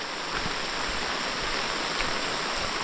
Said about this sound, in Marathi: ओढ्याला पण बऱ्यापैकी पाणी आहे